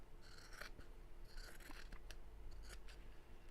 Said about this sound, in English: Let's trim these edges back.